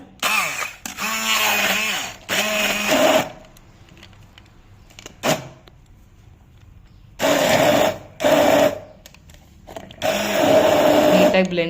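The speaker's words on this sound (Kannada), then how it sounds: "ಈಗ 1/4 ಕಪ್ಪಷ್ಟು ಸಕ್ಕರೆ ಹಾಕಿ ಈಗ ಈ ಥರ ಬ್ಲೆಂಡರ್ ಇಟ್ಕೊಂಡು ನಾವು ಇರೋದು ಜ್ಯೂಸ್ ಮಾಡ್ಕೋಬೇಕಾಗತ್ತೆ" An electric blender whirs loudly in several bursts as it blends fruit with sugar into juice for popsicles, and a person talks in the gaps between bursts.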